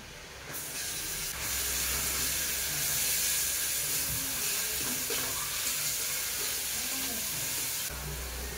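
Garlic going into hot oil with already browned onions for a fish curry. A loud, continuous hissing sizzle swells and holds for several seconds, then eases near the end, with no talking.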